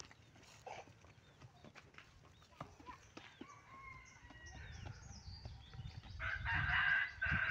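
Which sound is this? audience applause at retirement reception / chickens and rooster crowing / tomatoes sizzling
chickens and rooster crowing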